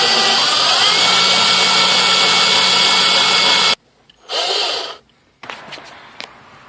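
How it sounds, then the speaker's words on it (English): A loud, steady power drill with a hole saw whines for several seconds cutting through a Mazda's car body and stops abruptly, followed by a short burst of drilling and some scraping clicks. "So now you can use a hole saw to drill the hole."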